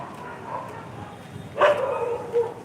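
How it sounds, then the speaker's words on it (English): A dog barks on a city street during a morning walk, a short burst around the middle and another briefly later, moderately distant over steady street noise and faint background voices. "There's one dog on the street that doesn't belong here, and everybody's going to bark about it."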